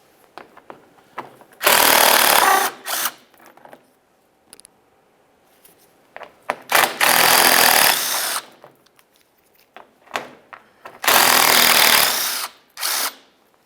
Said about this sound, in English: We'll remove these by using an 8mm socket.